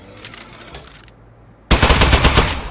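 An Aperture Science turret in the video game Aperture Desk Job opens fire after a brief pause, a loud rapid burst of machine-gun shots that follows a softer rattling start.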